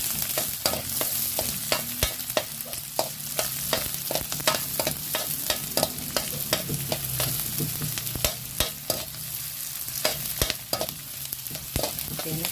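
Onions fry in a pan of oil for sweet and sour tilapia, a steady sizzle punctuated by rapid, regular clicks and taps of a utensil stirring, close and moderately loud, with no talking.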